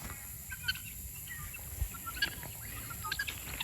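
Faint, scattered guinea fowl calls chirp and cackle at a distance over a steady background hiss, with short clucking notes spread irregularly throughout.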